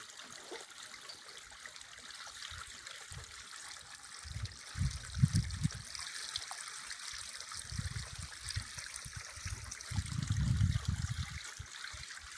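Water trickles and gurgles steadily, with a few louder bursts of splashing flow; no voices.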